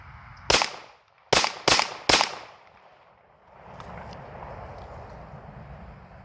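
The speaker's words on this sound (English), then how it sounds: "But hey, let's go ahead and take a few shots." Handgun shots fired during backyard practice at home: four sharp, loud reports, one on its own and then three in quick succession, followed by a quieter stretch of outdoor noise.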